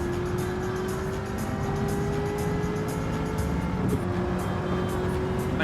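Race car engine from Gran Turismo 7, a Corvette among the field, drones steadily with a sustained tonal whine that holds a constant loud level throughout, with faint background commentary.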